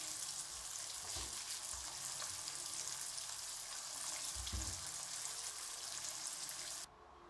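Breaded zucchini slices fry in a pan toward a golden crust, giving a continuous bright sizzle with faint crackles that runs steadily, then drops off sharply near the end.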